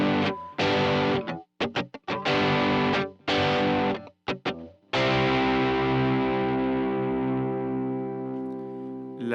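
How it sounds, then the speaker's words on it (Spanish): Music heavily processed with a distortion effect, loud gritty sustained tones in choppy bursts that stop and start, then a long held chord slowly fading out. "Así sonaría con el primer efecto añadido, que es la distorsión."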